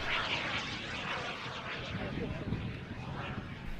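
A large model BAE Hawk jet in RAF display colours flies at the Weston Park Model Airshow in blustery, crosswind conditions, its turbine making a steady, broad, distant roar mixed with wind noise throughout.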